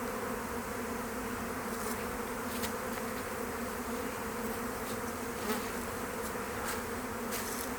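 A dense, steady hum of honey bees at an open beehive fills the whole stretch, loud and close, with no talking over it.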